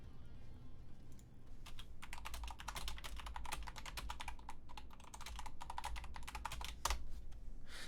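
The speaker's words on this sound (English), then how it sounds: "What are you typing?" Rapid typing on a computer keyboard, many quick clicking keystrokes in irregular bursts with brief pauses, close and clear against a low background hum, no voices.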